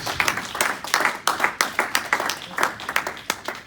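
A church congregation claps in steady rhythmic bursts while acclaiming Jesus, a close, lively run of repeated claps with faint voices mixed in.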